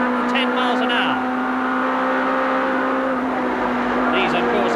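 A 1991 BTCC touring car, a heavily modified production saloon, recorded from inside the cabin at around 110 mph, its engine giving a loud, steady drone at high revs while a commentator talks over it.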